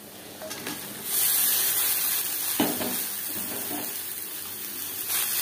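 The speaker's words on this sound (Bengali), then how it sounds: "3-4 মিনিট পেঁয়াজ ভেজে নেওয়ার পর দিয়ে দেবো চিচিঙ্গা" Onions frying in a pan, with snake gourd then added, for a masoor dal. A steady hiss of sizzling runs throughout, broken by a few stirring scrapes, and it grows louder after the first second.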